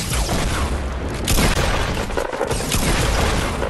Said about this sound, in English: Oh, they have a rocket launcher!